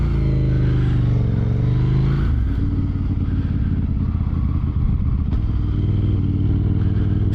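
A KTM Duke 890 GP motorcycle engine drones at speed, then drops pitch as the rider downshifts with the auto blipper, a quick rev blip followed by a steady, lower-pitched run; no talking.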